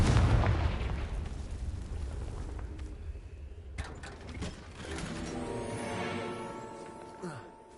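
A booming video game spell explosion hits at the start, then rumbles and decays into mechanical clatter and a sustained tonal hum, fairly loud and without talk.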